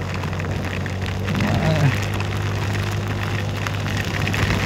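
Heavy storm rain pours down steadily as a dense hiss over a constant low engine drone, with a brief swell of sound in the middle.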